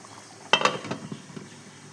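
A spoon stirs jaggery in a pan while making payasam, giving a sudden clatter against the pan followed by a few softer scrapes and taps that fade into quiet.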